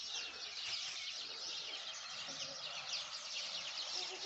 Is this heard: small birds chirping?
yes